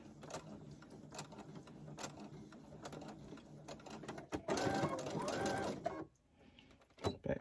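A sewing machine back stitches on a hooded towel in short, uneven bursts of mechanical stitching with brief pauses and a louder stretch near the end.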